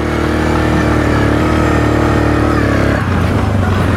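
A 2007 Suzuki King Quad 750 ATV engine running in high gear on worn, treadless tires: a loud, close, steady droning engine note that dips briefly near the end, with no talk.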